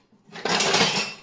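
A coffee cup is set into the rack of a small dishwasher, giving one short clattering clink of ceramic against the rack and other dishes, close and fairly loud.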